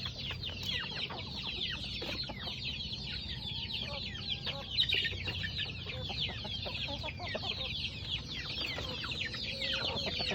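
Backyard chickens and young chicks cluck and peep continuously at close range, a busy overlapping chorus of short calls with no talking.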